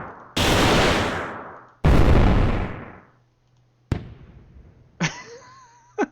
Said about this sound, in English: Okay, so we need a cool sound effect, so let's also look for explosion.